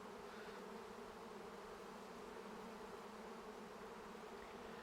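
A swarm of docile honeybees gathered around their caged queen gives a steady, dense buzz that hums evenly throughout, with no voices.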